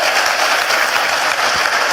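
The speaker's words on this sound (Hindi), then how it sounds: "तो एक बार जोरदार तालियां मोदी केयर के लिए हो जाए।" A seated audience at a business training seminar gives loud, sustained applause, a thick continuous wash of many hands clapping close by, with no voices over it.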